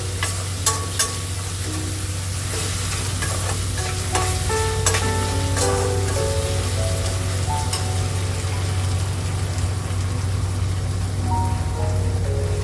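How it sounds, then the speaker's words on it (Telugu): Seasoning with turmeric and salt frying in a pan while Rayalaseema uggani is prepared, a steady close sizzle with scattered crackles and the light scrape of stirring, no voices. "అదేవిధంగా కాస్త పసుపు. మంచిగా ఫ్రై చేద్దాం."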